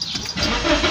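A BMW E36 car engine cranks and catches in one short burst just after a new fuel pump and fuel line were fitted, the start sounding close and fairly loud.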